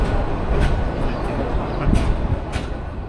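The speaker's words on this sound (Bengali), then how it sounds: "আমাদের ট্রেন পার্বতীপুর জাংশন থেকে রমনা বাজার রেলওয়ে স্টেশনের উদ্দেশ্যে যাত্রা শুরু করলো রমনা লোকাল" Ramna local passenger train pulling out of Parbatipur Junction in Bangladesh, a steady low rumble of wheels and carriages with faint rhythmic clatter, continuous and fairly close throughout.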